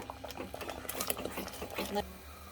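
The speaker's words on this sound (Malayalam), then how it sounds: "ഇത് നന്നായിട്ട് ഇങ്ങനെ കറക്കി കൊടുക്കണം." Butter chicken paste is stirred into melted butter in a pan, a quick series of scraping, sizzling strokes with a soft bubbling hiss, heard close and fairly quiet.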